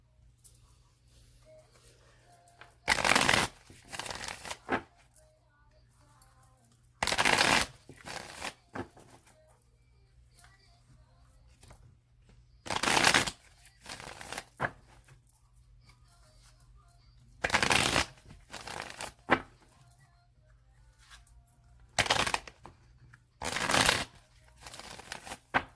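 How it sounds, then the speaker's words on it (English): A deck of tarot cards is shuffled in several separate bursts, each a loud crisp riffle lasting about a second, with quiet gaps between them. "I'm going to shuffle it 3 more times."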